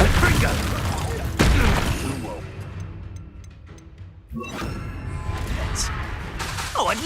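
Confringo spell blasts in Hogwarts Legacy crash in close, booming bursts, one sharp hit early, a fading rumble, then a second flurry of impacts and crackles toward the end.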